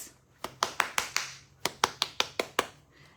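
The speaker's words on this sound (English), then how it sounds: "So you can literally clap your hair." A series of about ten sharp claps of hands against gel-coated curly hair, arriving in two quick bursts of crisp, close, moderately loud slaps with a short pause between them, no talking.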